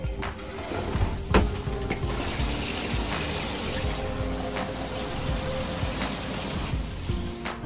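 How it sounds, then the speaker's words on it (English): Bleach water runs steadily through the shower lines of an RV, giving a close, continuous splashing hiss with small irregular spatters throughout. "So I just want to run water, that bleach water through these lines as much as we can."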